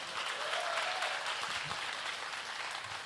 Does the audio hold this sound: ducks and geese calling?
no